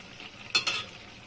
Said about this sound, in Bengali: এখন আমি ঢাকাটা তুলবো, তুলে একটু নাড়াচাড়া করবো